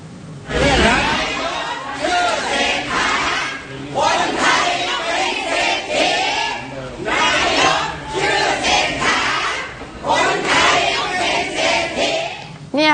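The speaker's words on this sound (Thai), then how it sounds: "กลุ่มมวลชนคนเสื้อแดงผู้สนับสนุนพักเพื่อไทย ส่งเสียงตะโกนชัดเจนนะคะ" Red-shirt supporters of the Pheu Thai party gather outside party headquarters, a dense crowd loudly shouting a slogan in repeated rhythmic bursts with brief pauses between chants, close and energetic, with babble throughout.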